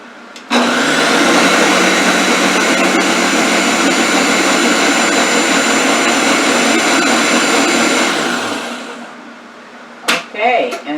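A blender whirs steadily through tomato sauce for about eight seconds, a loud continuous motor roar that winds down and stops, followed by a few brief clatters.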